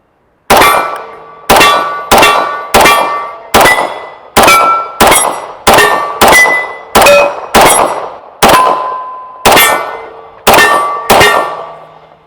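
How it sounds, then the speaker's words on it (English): A Ruger P89 9mm pistol fires thirteen loud, sharp shots at uneven intervals, each crack ringing out briefly before the next. "We'll just do a little bit of shooting right now."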